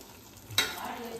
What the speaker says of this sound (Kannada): ಅದಕ್ಕೆ ಒಗ್ಗರಣೆ ಕೊಡತ್ತಲ್ಲ